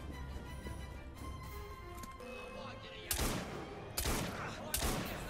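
Gunfire in the Assassin's Creed Syndicate video game: three loud, sharp shots at spaced intervals near the end, following a stretch of steady game background sound, with no talk over them.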